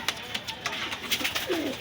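Pigeons cooing softly in a shop in Khulna, a few short murmuring coos over a low background.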